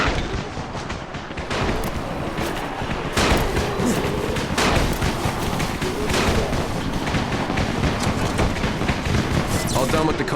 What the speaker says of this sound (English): You still have some firecrackers, don't you? Just throw some into the crowd.